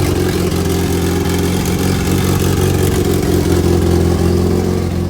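A turbocharged AWD Honda CRX engine idles steadily right after its first start-up, a constant close, loud mechanical drone with a deep rumbling hum and no voices.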